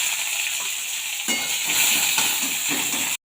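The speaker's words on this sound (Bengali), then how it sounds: "অল্প তেল দিয়ে দিলাম লঙ্কা দিয়ে দিলাম পেঁয়াজ কুচি দিয়ে দিলাম" Chilli and chopped onion hit a little hot oil while cooking kalmi (water spinach) greens, giving a loud, close, steady sizzle with soft stirring scrapes that cuts off abruptly at the end.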